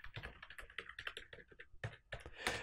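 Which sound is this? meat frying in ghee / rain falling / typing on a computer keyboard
typing on a computer keyboard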